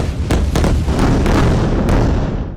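Loud, continuous booming explosions from a bomb strike, with repeated sharp blasts and a rumbling low roar sustained across the whole stretch.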